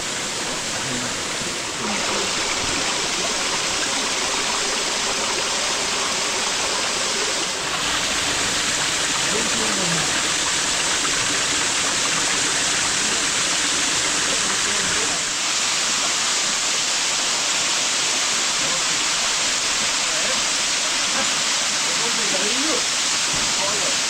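A waterfall in the Barranco de Carballido canyon roars as a loud, steady rush of water, close and constant, with faint voices beneath it.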